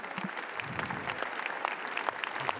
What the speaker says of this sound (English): They applauded such a lot.